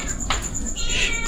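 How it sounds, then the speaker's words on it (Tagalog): A blind cat meows on a visit to Cresta Del Mar, a short mewing call or two close by amid outdoor background noise, with people talking around it. "Ayan ulit yung pusa."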